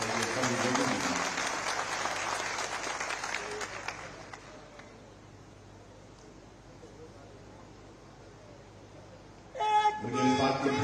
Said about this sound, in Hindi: ताली आपकी अपने लिए होनी चाहिए जोर से होनी चाहिए सभी लोगों के लिए